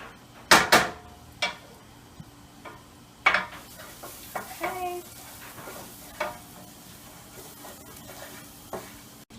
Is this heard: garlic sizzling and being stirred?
yes